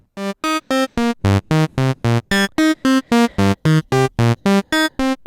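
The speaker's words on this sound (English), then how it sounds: "So what you're hearing is we're randomly adding harmonics." A Moog Grandmother synthesizer plays a steady sequence of short, evenly spaced notes whose pitch and harmonic brightness shift randomly from note to note.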